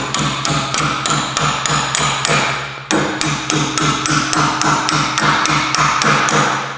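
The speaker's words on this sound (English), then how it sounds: "So you just give them a little tap" Rapid, loud, evenly spaced hammer taps drive bolts through Power-Pole drift paddle spacers, close up, in two runs of steady strikes separated by a brief pause.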